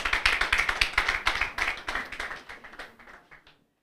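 A moot court competition audience claps for a participating university team, giving a fairly small, rhythmic round of hand claps that starts brisk and close, then thins out and fades to silence after a few seconds.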